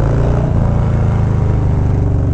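A loud Harley-Davidson Low Rider S with a TBR 2-into-1 aftermarket exhaust, deep and throaty, idling and revving in a steady pulsing burble, heard close up with no talking.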